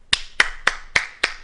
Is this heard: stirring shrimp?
no